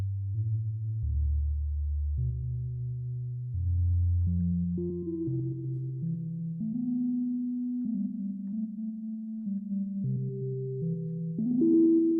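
A gritty, distorted synth pad playing a slow sequence of sustained chords that shift in steps, played alone without any voices.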